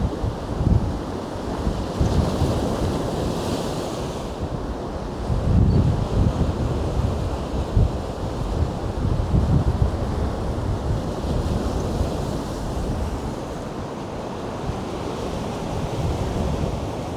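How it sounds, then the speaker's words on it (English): Sea waves surge and break on the shore at Can Pastilla, Mallorca, in winter, with steady wind buffeting the microphone; a continuous broadband wash swells louder around the bigger breakers, with no voices. "the waves are coming right up"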